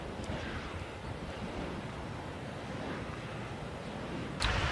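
Wind buffets the microphone over a steady roar of waves and surf at the Portland blowhole on the coast, a continuous close rumble with a sharp gust near the end and no voices.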